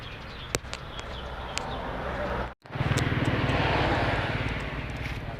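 A homemade rice-seeding tractor with a downward-pointing exhaust pipe runs its engine in a steady, loud droning rumble nearby. The sound cuts out briefly once, then resumes and holds.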